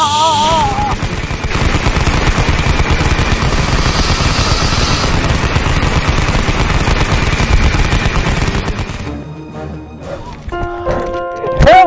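Rapid bursts of gunfire aimed at an anaconda, loud dense shots in quick succession over several seconds that give way to a quieter stretch with electronic tones and voices speaking.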